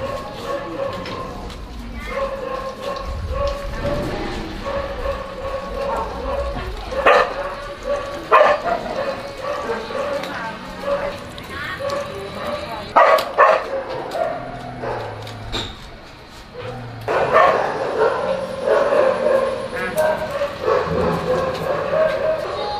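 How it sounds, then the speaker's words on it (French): Several dogs bark and yip outside a 7-Eleven in Thailand, repeated sharp barks rising over steady street noise, with people talking throughout. "Like so many dogs outside 7-Eleven"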